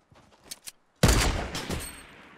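Sniper shots in the Fortnite video game: a couple of faint sharp cracks followed by a loud close report with a fading tail.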